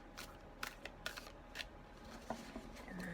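Tarot cards being shuffled close by in a quiet room, a series of soft riffling bursts and taps at irregular intervals.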